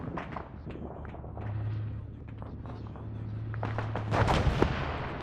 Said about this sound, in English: Also some kind of HMG far northwest about 1 click.